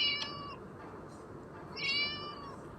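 A cat in the video game Scary Teacher gives two clear meows, a short one at the start and a longer one near the end, over a low steady game background with no talking.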